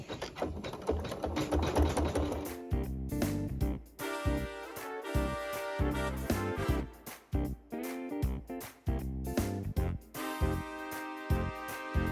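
A sewing machine stitches a quilted butterfly. Its motor runs in steady bursts of rapid, rhythmic stitching with short pauses between runs, close and clear, with no talking.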